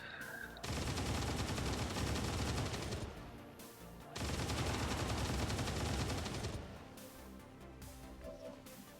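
Gunfire in XCOM 2 Long War of the Chosen, heard as two long, loud bursts of rapid automatic fire separated by a brief pause, with fainter crackling shots trailing off afterward.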